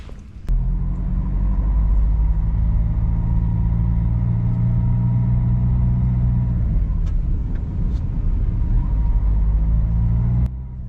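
A car drives onto an industrial estate at a former RAF site at Newtoft Business Park, Toft Newton, its steady low engine rumble and road noise loud and close throughout, with no talk.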